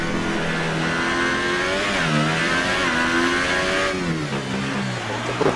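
Formula 1 car engine from the F1 2018 racing game on the Monaco street circuit, a loud continuous high-pitched whine rising and falling through gear shifts, with no talk over it.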